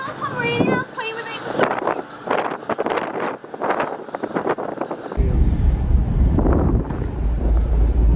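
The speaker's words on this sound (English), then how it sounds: "This rooftop is very windy, but it's madness." People talk over gusty wind on a rooftop, then strong wind buffets the microphone in a loud, low roar that continues to the end.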